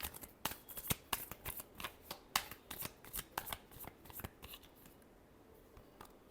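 Tarot cards shuffled by hand at close range, a run of crisp riffling snaps and soft slaps in uneven bursts that thin out near the end, with no talking.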